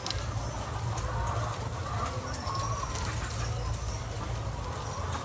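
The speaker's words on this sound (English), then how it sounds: "Like there are so many chickens." A large flock of chickens on a chicken farm clucks and murmurs continuously, a dense, busy mass of overlapping calls that fills the whole stretch at a steady level.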